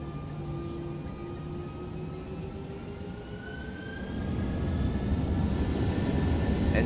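Airliner jet engines spool up for takeoff in the X-Plane 11 flight simulator, a steady roar with rising whining tones that grows louder and fuller partway through, with no talking.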